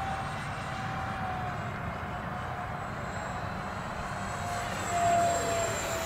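An FF-117 electric ducted fan model jet at about half throttle whines steadily overhead with a continuous high-pitched turbine tone, swelling slightly louder near the end, with no talk.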